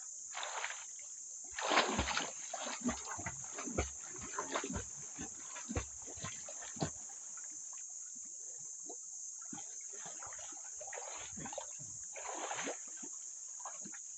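Water splashing and sloshing from someone swimming and bathing outdoors, in irregular bursts of splashes and paddling that are fairly close, over a steady high-pitched insect-like background drone.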